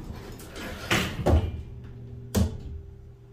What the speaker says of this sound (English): That's a very, very slow door.